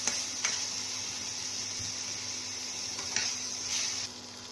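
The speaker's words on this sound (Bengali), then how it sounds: "এরপর আমি একটা কুচিয়ে রাখা টমেটো এর মধ্যে দিয়ে দেবো। টমেটোটা সফট হওয়া অবধি ভেজে নেব।" Chopped tomato frying with onion in a pan, giving a steady, low sizzle that runs throughout with a few faint clinks and stirring touches, no voices.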